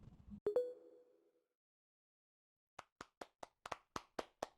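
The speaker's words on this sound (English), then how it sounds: "You can clap with F2." A short chime followed by a rapid string of about nine crisp, isolated hand claps from a sound effect triggered in a virtual conference, clean and close with silence between.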